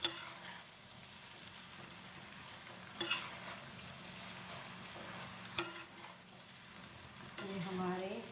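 Macaroni being mixed into chicken in a pan, with a few sharp spoon scrapes and clinks against the metal at spaced intervals over a quiet background.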